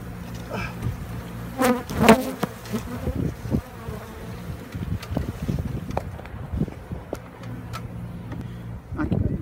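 Bees buzz loudly during a hive removal, stirred up by smoke from burning Taco Bell nacho chips, a dense close insect drone with wind and handling noise and brief talk.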